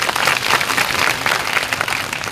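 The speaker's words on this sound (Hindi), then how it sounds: "जोरदार तालियां बजा दीजिए।" Loud, sustained applause from a crowd at a political speech in Banswara, Rajasthan, many hands clapping densely and continuously without pause.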